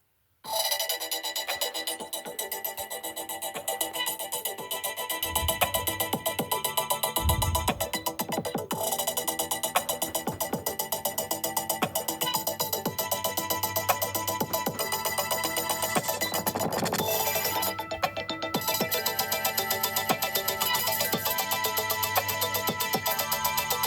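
A Google Pixel phone plays a glitchy electronic ringtone, a dense repeating melodic pattern that carries steadily and clearly for over twenty seconds with no talking.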